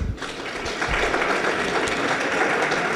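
Audience applause at a training session for political party activists on electoral law and good electoral practice, a dense steady clapping from a sizeable crowd sustained across the whole stretch, loud and close with no voices over it.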